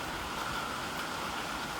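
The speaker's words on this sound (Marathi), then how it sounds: "एकदम शांत आणि निवांत धबधबा तुम्ही पाहत आहे" A calm waterfall in Pune district, running low in a dry spell, gives off a steady, even rush of falling water that fills the whole moment without pauses or voices.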